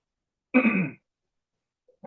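A single rough throat clearing, close and fairly loud, from someone with a cough and cold, followed by silence and a faint start of another sound at the end.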